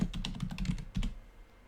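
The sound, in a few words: typing on a computer keyboard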